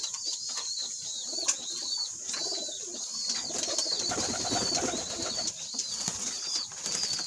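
Pigeons in a breeding cage cooing softly over a steady background of bathing splashes and fluttering, with occasional wing flaps, continuous and moderately close.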